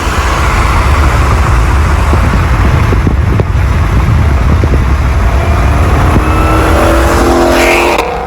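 A 2020 Shelby GT500 with a supercharged 5.2-liter V8 rumbles loudly close by, its engine note rising and falling through revs with a strong low-end growl, ending in a higher climbing whine.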